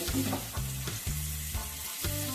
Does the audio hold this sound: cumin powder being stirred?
yes